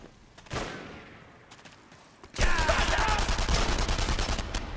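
Gunfire in the Enemy Front shooter: a single sharp shot early, a quieter lull, then a loud dense burst of rapid automatic fire that rattles on steadily to the end.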